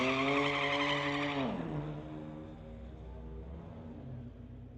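A 2008 BMW launches off the line in a street-legal drag race, a loud, high engine whine climbing through the revs for over a second, then dropping to a lower, steadier roar that fades as the car pulls away.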